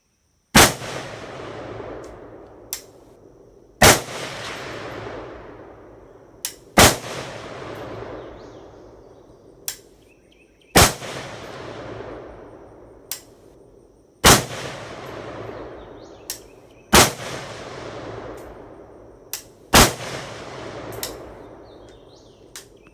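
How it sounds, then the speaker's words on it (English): Rifle with a folding stock and high-capacity magazine fired at an outdoor range: about seven loud, sharp shots spaced a few seconds apart, each with a long decaying echo, plus quieter distant shots between them. "Alright, do the first shots."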